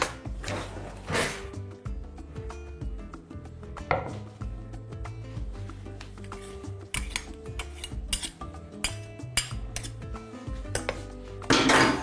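Wet dough ingredients, including vanilla extract, are stirred in a bowl, giving a steady run of clinks, scrapes and knocks of a utensil against the dish, fairly close and uneven in rhythm.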